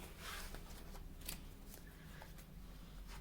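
Tarot cards are shuffled for a reading, a very quiet, close, continuous papery riffling and sliding with a few soft flicks, with no talking.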